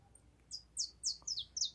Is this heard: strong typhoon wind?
no